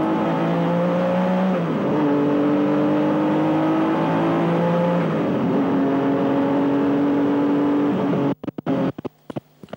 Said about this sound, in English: now we've got Mike Wiles out of the pits with the Porsche 962